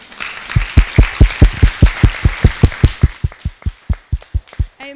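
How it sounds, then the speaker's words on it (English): An audience claps steadily in a strong, even rhythm for several seconds at the end of a panel discussion, the applause thinning slightly toward the end. "you can give yourselves a round of applause"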